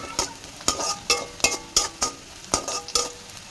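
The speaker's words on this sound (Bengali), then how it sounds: "এবার পেঁয়াজটাও হালকা হালকা লাল লাল ভাজা ভাজা হয়ে গেল" Onions frying lightly golden in a pan, with sizzling broken by sharp scraping stir strokes about every half second, close and fairly loud with no talking.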